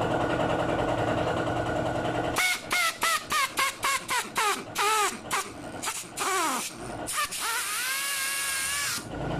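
A pneumatic tapping machine cuts threads into cylindrical bolts, a harsh air-driven whirring that starts and stops in a quick series of short bursts, followed by a longer run.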